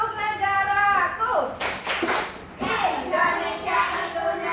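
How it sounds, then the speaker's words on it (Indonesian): Children in a classroom give a short burst of hand clapping, a brief patter of claps between stretches of an adult talking. "Oke, tepuk tangan buat anak hebat luar biasa"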